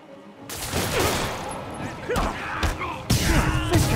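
Gunfire crackles through a Spider-Man video game fight, with rapid bursts, sharp thuds and impacts layered over game music and effects, loud and busy across the whole stretch.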